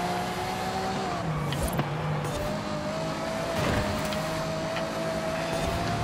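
A Ferrari Monza SP2 engine in Forza Horizon 5 hums at a steady, moderate pitch with slight shifts, a fairly quiet continuous drone with a couple of faint clicks and no voices.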